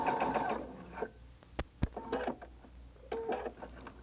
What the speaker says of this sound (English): I'm just sewing right through them.